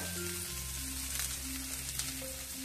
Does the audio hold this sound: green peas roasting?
yes